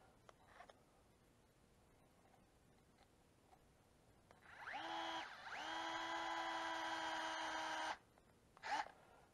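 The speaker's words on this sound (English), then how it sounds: "I do want to get them started with the electric driver to make my life easier" Electric screwdriver whirring as it drives long, fine-threaded metal screws into a plastic differential case on a RedCat Kaiju RC truck, two steady powered runs with a brief pause between, close and alone, followed by a short clack.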